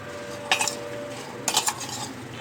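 A spoon mixing cucumber pickle with cumin powder in a bowl, giving two short bursts of scraping and clinking against the bowl over a quiet background.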